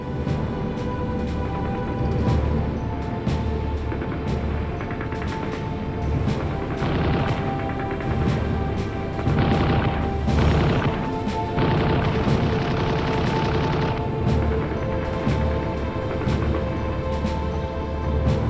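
Gunfire and explosions from archival World War II film of German soldiers firing on the Timberwolf Division outside Halle, April 1945: dense continuous rumble with repeated sharp bangs and heavier booms, loud throughout.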